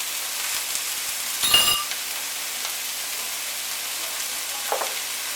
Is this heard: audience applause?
no